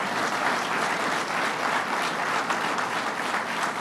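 An audience applauds at a construction announcement for a $150 million road, transit and economic development hub, a steady, dense clapping that holds evenly throughout.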